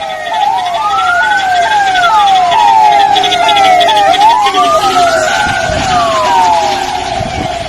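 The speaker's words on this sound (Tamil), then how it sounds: "அக்கா, உங்களுக்கு ஒன்றும் ஆகாது, ஆம்புலன்ஸ் வந்துருச்சு, நம்ம ஹாஸ்பிட்டல் போகலாம்." Ambulance siren in a Tamil drama scene, loud and continuous, cycling through rising and falling wails with quick yelping sweeps over a low traffic rumble, no talk.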